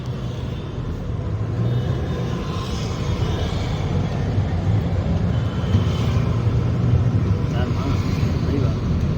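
Low engine rumble and road hum from inside a moving car, steady throughout, with people talking over it.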